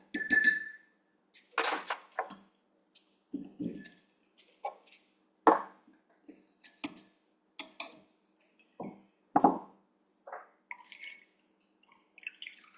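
Ice and glass clinks from stirring a low-carb cocktail flavored with chocolate bitters, a series of bright, close taps and rattles in separate bursts with short pauses between.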